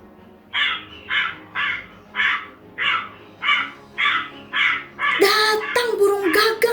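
Crows give about nine evenly spaced caws in a row, loud and close, followed by a burst of rougher overlapping calls.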